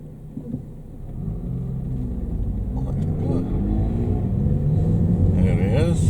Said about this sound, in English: Exhaust making like farty noises.